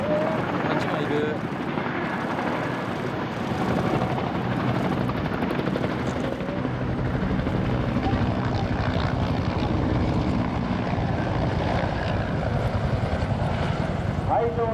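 Military aircraft at the Kisarazu air festival, a Ground Self-Defense Force base event, roar past the crowd as a loud, continuous rotor and engine drone filling the whole stretch, with an announcer and spectators talking over it.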